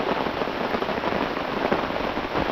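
Steady, dense rain falls in a forest during a trip into the woods, a loud, even hiss of drops on leaves and ground that continues without a break, with no voices.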